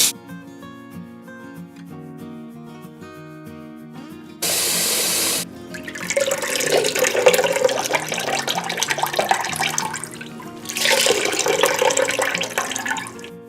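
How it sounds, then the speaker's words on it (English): Cold tap water runs over rasmalai cheese in a kitchen sink, a close, steady splashing stream in two bursts separated by a quieter pause, with a brief hiss at the start. "So I'm gonna run some cold water through it"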